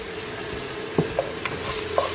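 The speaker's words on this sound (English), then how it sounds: "Now I'm adding my chopped onion." Chopped onion sizzles in hot extra light olive oil with a steady, even hiss, broken by a few soft clicks of a utensil against the pan.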